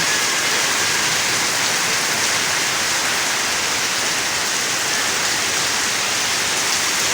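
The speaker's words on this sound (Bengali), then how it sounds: "সন্ধ্যার সময় কি বৃষ্টি প্রচুর বৃষ্টি" Heavy evening rain pours steadily over a village courtyard, a dense, loud, unbroken roar of water with no pauses.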